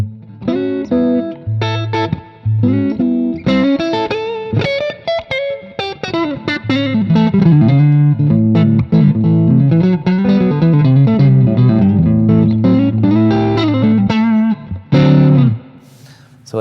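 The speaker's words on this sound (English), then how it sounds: "So that's the clean channel using some reverb and the boost." An electric guitar plays chords and melodic lines through the clean channel of a BluGuitar AMP1 100-watt amp with boost, clean tone and reverb, loud and continuous for over fifteen seconds.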